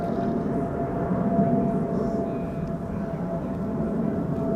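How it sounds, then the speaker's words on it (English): A Chinese Boeing 777 airliner passes overhead near Amsterdam Schiphol, giving a steady, fairly loud broadband roar with a faint thin whine, holding constant throughout. "Chinese triple passing overhead"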